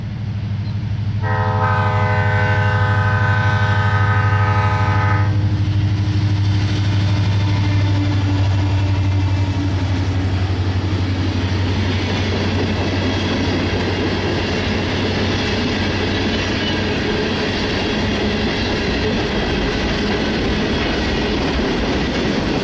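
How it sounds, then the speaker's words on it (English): An eastbound Santa Fe freight train led by a GP30U locomotive rolls through Christie, opening with a loud multi-tone horn blast over a deep engine drone, then a long steady rumble of wheels and cars passing close by. "An eastbound led by a GP30U rolls through Christie."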